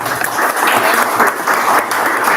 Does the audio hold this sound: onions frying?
no